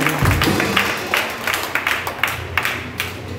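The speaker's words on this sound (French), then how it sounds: "Je demande encore une fois en applaudissement." An audience claps during a wedding ceremony at an annual Christian mission convention in Haiti, with a moderate, steady patter of applause that fades slightly toward the end.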